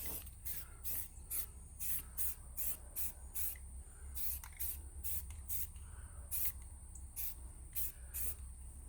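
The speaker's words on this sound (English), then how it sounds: "Your first coat, you put what is called a tack coat, which is a light, sticky coat." A spray can lays down a light tack coat of paint on metal in short, repeated hissing bursts, about a dozen quick pulses close to the microphone over a low background hum.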